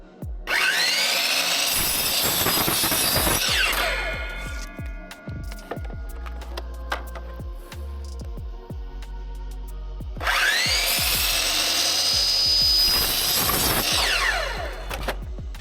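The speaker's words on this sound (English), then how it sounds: "It was an easy cut on the miter saw." A miter saw cuts pegboard in two loud bursts, each a rising whine into a ragged cutting screech, with clatter and handling noise between the cuts.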